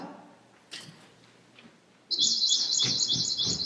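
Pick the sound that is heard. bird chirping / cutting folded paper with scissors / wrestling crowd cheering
bird chirping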